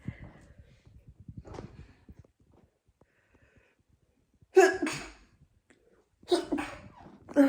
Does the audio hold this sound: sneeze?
yes